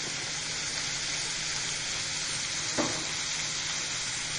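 Masala spiced with turmeric powder frying in oil for an aloo mutton curry, a steady soft sizzle throughout with one brief stir or scrape near the end.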